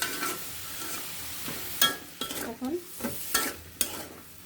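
Squash and shrimp curry is stirred in a pan: a soft background sizzle broken by several sharp scraping strokes of a spoon against the pan, close and distinct, with a brief spoken word.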